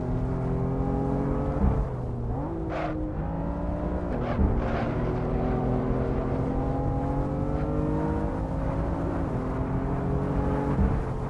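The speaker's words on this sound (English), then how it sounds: "100 miles an hour, just full throttle through here." A BMW M4 engine runs at full throttle on the Nürburgring, a loud, continuous in-car drone that rises and dips in pitch through gear changes and speed shifts, with no talking.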